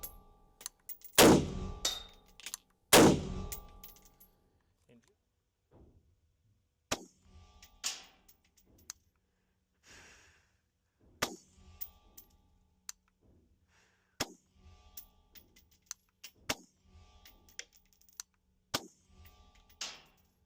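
Single rifle shots from a PWS UXR fired at a 25-yard target, two loud sharp reports early followed by a string of quieter spaced cracks and clicks against a near-silent range.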